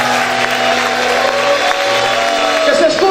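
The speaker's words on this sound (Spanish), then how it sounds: "Dale ese fuerte aplauso al Señor" A church congregation applauding the Lord, many hands clapping in a steady wash alongside a sustained musical tone, with some crowd voices mixed in.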